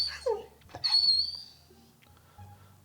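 A dog indoors at home squeaks a chew toy, giving a few sharp, high squeals and whistly yelps close by in the first second and a half, then only faint low rumbling remains.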